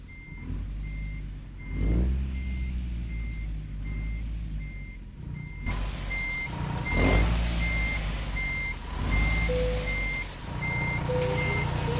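A truck in a simulated Alaska haul sounds a steady, evenly spaced reversing beep while backing up, with a low engine rumble and occasional thumps beneath, moderately loud and close, without speech.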